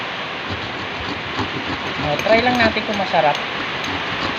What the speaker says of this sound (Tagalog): Muulan, malakas ang ulan.